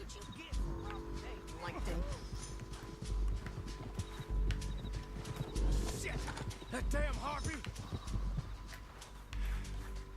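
A horse in the video game Red Dead Redemption 2 clops along with irregular hoof thuds and lets out a couple of whinnies, quiet and mixed under people talking.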